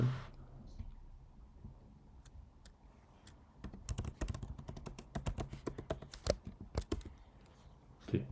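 Keys clack on a computer keyboard in bursts of quick, irregular taps, close and fairly quiet, with the typing growing busier toward the end.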